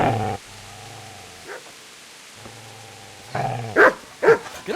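A dog in the video game Kingdom Come: Deliverance growls and whines in low drawn-out tones, then breaks into several loud, close barks near the end.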